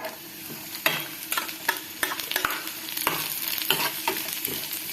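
Almonds frying lightly in a pan while being stirred, giving a steady soft sizzle broken by scraping, clicking stir strokes from the spoon, close and fairly loud, with no talking.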